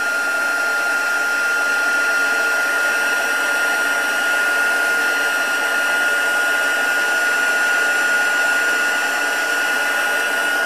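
A heat tool used for embossing blows hot air to dry a handmade card, a steady loud whirring hiss with a constant high whine, unbroken from start to finish with no talk.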